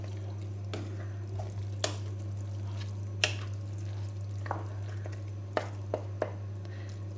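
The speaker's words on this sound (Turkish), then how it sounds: "Bir karıştırayım şöyle ufaktan." A spoon stirs meat cooking in a pot for Turkish keşkek from Tokat, giving soft scattered scraping clicks and wet squishes over a steady low hum and faint bubbling, with no talk.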